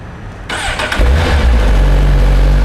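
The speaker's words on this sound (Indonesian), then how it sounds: "ini adalah suara dari GSX R1000R" A Suzuki GSX-R1000R motorcycle engine with stock exhaust cranks and fires up, then settles into a loud, steady, rumbling idle close by.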